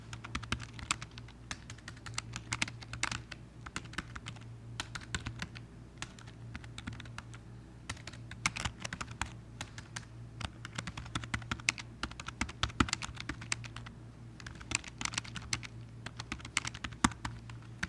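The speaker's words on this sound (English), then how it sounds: "and then I can type in a message" Rapid, close keystrokes tap away on a computer keyboard for nearly eighteen seconds while a message is typed, with brief pauses between bursts.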